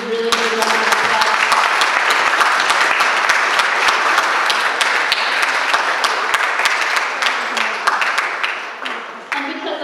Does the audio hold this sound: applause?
yes